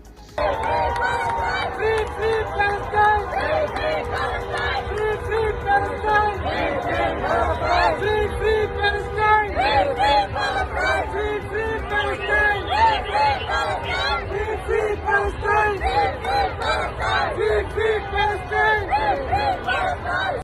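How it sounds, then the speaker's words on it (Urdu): A protest crowd in Toronto chants slogans in support of Palestine, a dense, steady roar of many voices with rhythmic shouted phrases and babble continuing loudly throughout. "فلسطین کے حق میں نعرے بازی کی"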